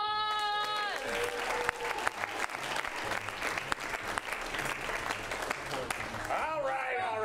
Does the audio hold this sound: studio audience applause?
yes